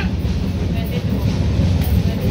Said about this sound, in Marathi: स्टेशन ठाणा स्टेशनला गाडी पोहोचली.